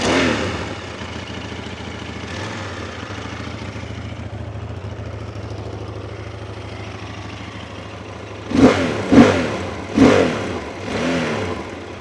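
Close up, a QJ Motor 900 SRT motorcycle idles steadily for several seconds before a quick series of four sharp throttle blips, each swelling and falling back toward idle, with no voices.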